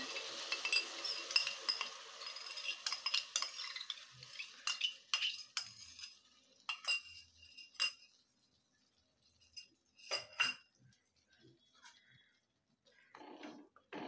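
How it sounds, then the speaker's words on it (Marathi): A spice mixture for shahi paneer being stirred in a pan, with a spoon clinking and scraping against the metal in irregular bursts. The quiet stirring fades into near silence toward the end. "सर्व व्यवस्थित परतून घ्यायचे."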